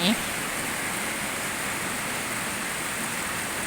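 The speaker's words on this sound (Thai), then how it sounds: "ฝนตกยังไงก็ตกเถอะค่ะ" Steady broadband hiss of rain falling behind a rural house during a wet spell, constant and even throughout with no voices, the patter fairly close and moderately loud.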